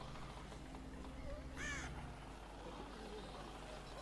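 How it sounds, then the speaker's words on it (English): Crows cawing in the video game The Walking Dead: Michonne, a brief pair of harsh caws rising over a faint, low ambient rumble, heard at a moderate distance. "Not liking the crows."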